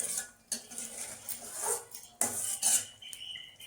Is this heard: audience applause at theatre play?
no